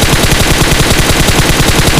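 Loud, rapid automatic gunfire from the video game BGMI rattles in an unbroken stream of closely spaced shots for about two seconds, with no talking over it.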